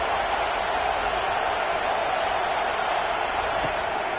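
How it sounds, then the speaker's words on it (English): Dense, steady roar of a large football stadium crowd cheering on the defense on third down, a continuous loud wash of voices with no breaks. "Decibels rising as the crowd gets behind this defense on third down"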